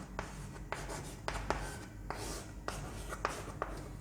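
Chalk or marker scratches and taps on a board in short, uneven strokes during a chemistry lesson on chemical kinetics, faint and close, with brief pauses between marks.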